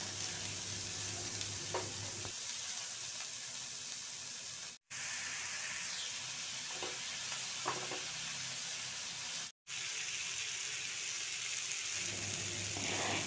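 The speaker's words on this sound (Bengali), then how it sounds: "এদিকে আমি সবজিগুলো একটু ভেজে নিচ্ছি আর নুন দিয়ে দিচ্ছি" Vegetables fry in a pan while salt is added, making a soft, steady sizzle and hiss with a few faint clinks and no voices.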